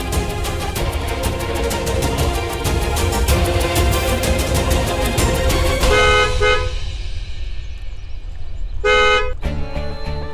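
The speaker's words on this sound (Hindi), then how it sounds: "गाड़ियों की आवाज, लगता है मेन रोड आसपास ही है" Heavy traffic from a nearby main road roars steadily, with repeated car horn toots and honks. Louder, sustained horn blasts come near the end.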